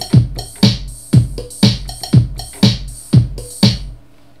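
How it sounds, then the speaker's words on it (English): A bright, percussive cowbell struck in a steady repeating beat, about two hits per second, each with a sharp attack and short ringing decay. "lastly I'm going to add in my cowbell sound"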